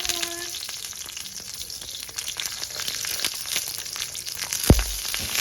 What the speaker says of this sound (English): My pot is hot, so I'm gonna put my tomato. And I'm gonna stir.